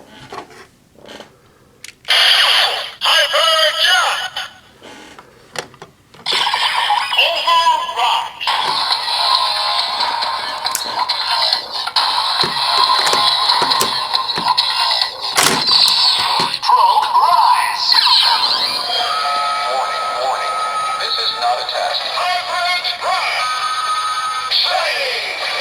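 Kamen Rider Zero-One toy driver with the Shining Assault Hopper key, giving a loud electronic ringing and mechanical clicks followed by a sustained bright, bouncy transformation jingle that runs steadily for about twenty seconds.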